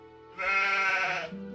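A single sheep bleats in the Gothic 2 video game, one clear, close, wavering bleat lasting about a second, alone.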